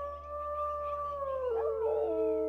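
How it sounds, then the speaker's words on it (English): A wolf in the video game WolfQuest gives one long, sustained howl that drops in pitch partway through and then holds steady, loud and alone over a low constant hum. "Let's howl."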